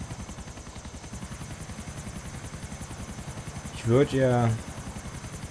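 Helicopter in GTA IV flying over a city, a steady rhythmic rotor chop with a low engine drone throughout, with someone briefly speaking over it.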